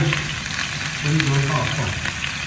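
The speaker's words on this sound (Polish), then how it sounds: "Czekamy na rozgrzanie się oleju. Wrzucamy imbir" Ginger dropped into hot oil for a Chinese-style dish, with a steady close sizzle and crackle that holds throughout, plus faint background voices or noise mixed in.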